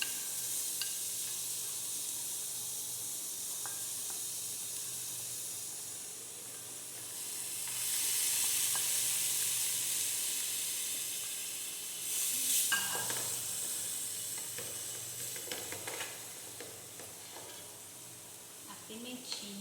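Onion and bell pepper for a shrimp vatapá hiss loudly in a hot pan, a bright, continuous sizzle that swells in the middle and then settles, with a few utensil knocks near the end.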